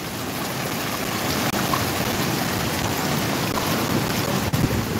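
Storm surge waves crash against the port at Nato, Sagñay, Camarines Sur. The roar is continuous and loud, close-up and rough, like heavy rain and wind, with no voices.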